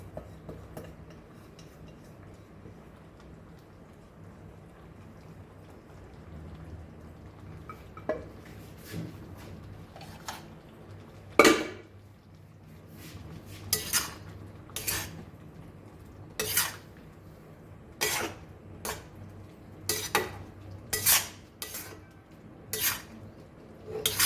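Chayote curry being stirred in a pan, quiet at first, then a series of sharp, irregular clinks and scrapes of a spoon against metal growing more frequent, close and clear, no speech.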